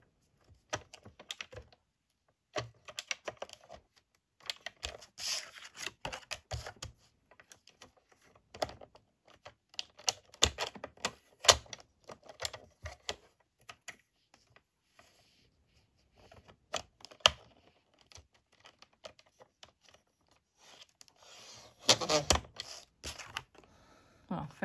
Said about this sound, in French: Un petit trait avec le massicot